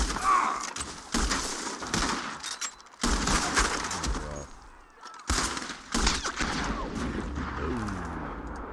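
Gunfire in a Wild West video game shootout: several loud bursts of shots with short pauses between them, and faint voices and bird chirps underneath.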